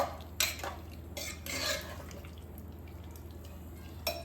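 A brinjal and potato curry is stirred in a pot, with intermittent spoon scrapes and light metallic clinks over a quiet, steady background hum.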